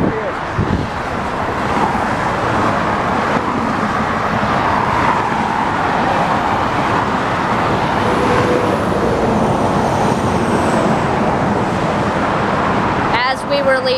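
Loud, continuous roar of passing cars and trucks beside a highway where a car with two flat tires is stopped, steady broadband rumble with wind buffeting throughout.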